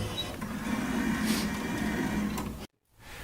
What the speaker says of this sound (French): je passe mes œufs dans une machine qui va les dater, avec le numéro de producteur